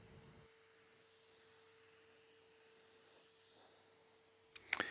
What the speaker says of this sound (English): decrease my distance and increase my speed so I can spray this bumper more efficiently